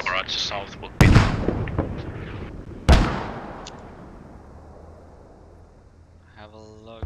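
A mortar barrage in a shooter game, with two sharp, heavy booms about two seconds apart, each trailing off into a rumble, while players talk over the top.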